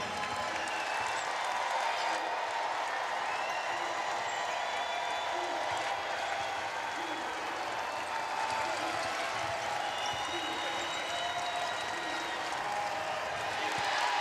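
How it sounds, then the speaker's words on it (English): Large basketball crowd at Reynolds Coliseum cheering and applauding steadily during the closing minute of a women's college game, a continuous roaring wash with whistles and shouts, heard from courtside, with no clear talk. "Crowd on their feet, ready to celebrate a win inside Reynolds Coliseum"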